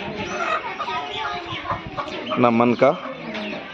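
Chickens cluck and call at a market stall where fowl are sold in Giridih, Jharkhand, with a few short, fairly close bursts of clucking amid crowd noise and people talking.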